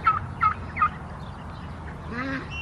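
Guinea fowl give a rapid series of harsh, rhythmic clucking calls up close, followed by a softer, wavering cry outdoors near dusk, with no talk.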